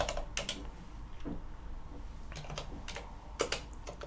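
Computer keyboard typing during an Arch Linux install, scattered key taps with a few sharper presses of the tab key, close and fairly quiet.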